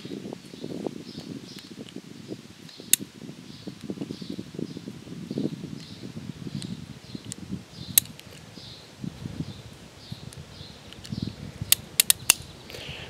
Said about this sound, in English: So I'm going to put all 6 rounds in.